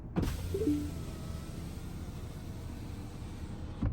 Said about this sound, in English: The driver's window will automatically roll down just by using your voice.